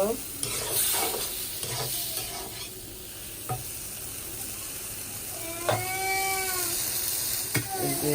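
Chicken livers frying in a pan with a steady sizzle, punctuated by several sharp stirring scrapes and a brief high squeak near the middle.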